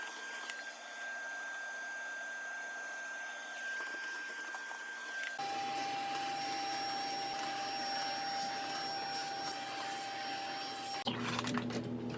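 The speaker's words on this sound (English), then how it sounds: "we're going to go ahead and take this vacuum and go ahead and clean it out" A vacuum cleaner whines steadily up close, its pitch shifting abruptly a few times as the nozzle moves through the tight spaces of refrigerator coils.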